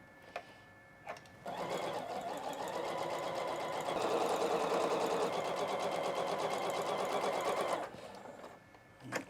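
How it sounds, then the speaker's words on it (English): A sewing machine stitches quilt seams for a pinwheel sampler quilt, running steadily for several seconds with a brief pause before speeding up, close and loud, then stopping, with a couple of short clicks at the start and end. "let me go ahead and make 2 little seams here"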